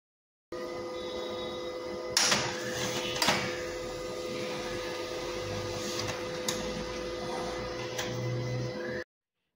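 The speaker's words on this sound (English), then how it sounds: "The page is printed" HP printer running a test page, a steady mechanical whir with sharp clicks and clunks of paper feed at irregular moments, fairly close and alone without talk.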